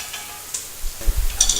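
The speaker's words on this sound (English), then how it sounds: "A nice little stir." A utensil stirring food in a pan on a stovetop, soft scraping and a light sizzle, followed by several close, low thumps and scrapes as the mixture is turned.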